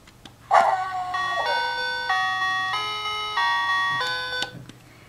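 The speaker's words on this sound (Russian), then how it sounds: "при нажатии на нос собачки воспроизводятся три песенки" A SilverLit toy dog plays a bright electronic beeping melody after its nose is pressed, a clear sequence of loud tonal notes opening with a short bark-like sound and ending with a click.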